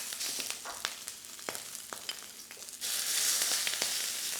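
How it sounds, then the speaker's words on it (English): Pork belly pieces sear in a wok over high heat, a steady close sizzle with scattered pops and crackles that swells louder and denser partway through. "you want your heat to be a high heat first. So you want that pork to sear instantly."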